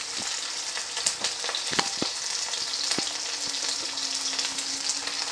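Dried shrimp and bheto greens fry with salt and turmeric, a soft continuous sizzle punctuated by light taps and scrapes of stirring, fairly quiet and close.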